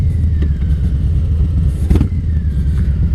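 Harley-Davidson motorcycle riding along the road on a Sunday, a loud, steady low engine rumble with wind noise, close and continuous, no speech.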